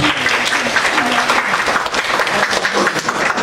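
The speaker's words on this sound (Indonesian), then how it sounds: "Tepuk tangan untuk kita semuanya" Audience applause fills a university guest lecture hall, steady, dense clapping at full volume throughout with no break.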